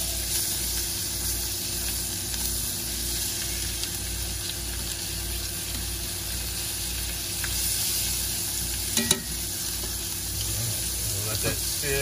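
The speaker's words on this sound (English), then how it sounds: "Let that sizzle." A steady, loud sizzle of asparagus frying in a hot pan fills the scene, with a brief clatter near the end.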